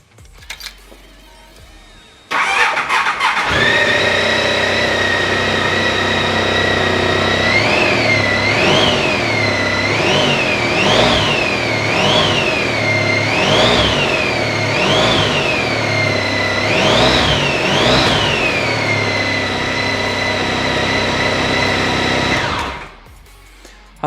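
A Honda Pan European motorcycle with 37,911 miles cranks and fires after a short quiet moment, then runs close and steady with a string of throttle blips before shutting off.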